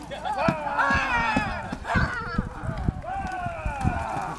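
Horse hooves clip-clop on the ground during a mounted combat class, a loose, uneven run of thuds under loud speech that carries on throughout.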